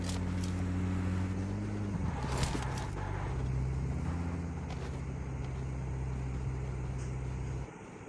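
A vehicle in the mobile battle royale game PUBG Mobile drives with a steady low engine drone that shifts pitch briefly as it changes speed, carrying on evenly before cutting off near the end.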